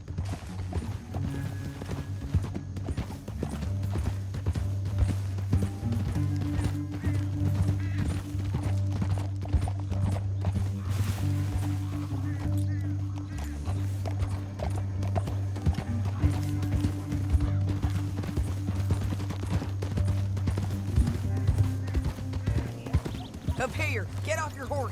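Horse hooves clip-clop steadily throughout a ride in the video game Red Dead Redemption 2, with a possible whinny, under continuous game music and character dialogue.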